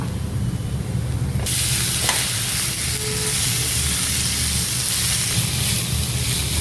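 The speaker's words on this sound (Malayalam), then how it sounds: "നമുക്ക് ഇനി ഇതിലേക്ക് നമ്മൾ ഈ ചിക്കനില്ലേ അത് ആഡ് ചെയ്യുക. ഒരു 2-3 മിനിറ്റ്സ് അത് ഒന്ന് വഴറ്റുക." Chicken pieces frying with onions in a pan for palak chicken, a loud, dense, continuous sizzle and hiss that jumps brighter partway through, heard up close with no voices.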